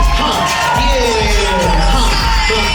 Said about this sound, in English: One more round of applause for these ladies.